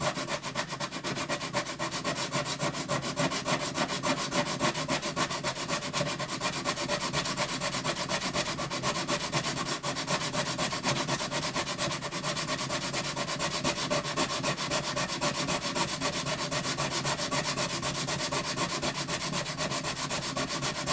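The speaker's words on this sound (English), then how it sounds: "Start with this side over here because it looks the worst. I need to sand that entire wing too." The wooden bridge of a Yamaha FG180 red label acoustic guitar is sanded in a steady, close, continuous rasping rub that goes on without pause.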